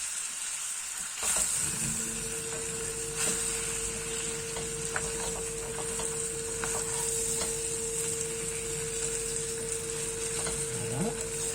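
Pieces of rabbit roast in a hot pan, giving a loud, continuous sizzle and crackle that carries the whole stretch with no voices, just a few faint scrapes.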